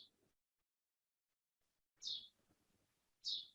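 Small birds chirping faintly in quiet surroundings, two distinct chirps a little over a second apart after a long hush, with a softer trace at the very start.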